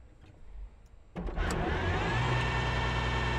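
A car that has just had its battery charged cranks and starts up after a brief quiet pause, then settles into a steady, close engine idle with no talking.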